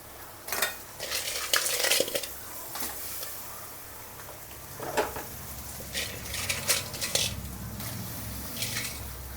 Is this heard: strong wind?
no